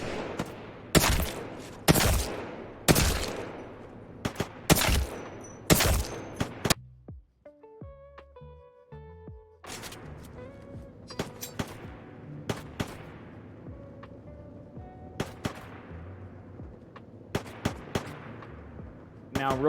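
Sharp, loud gunshots from a shooter video game during one-shot aiming practice, fired singly in an irregular rhythm. A brief quieter lull with tonal game sounds sits near the middle, then more scattered shots follow.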